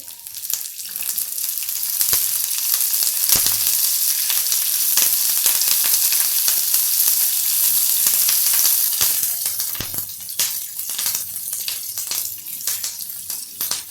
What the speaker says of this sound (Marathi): तेलामध्ये ह्याला चांगलं कुरकुरीत करून घ्यायचं आहे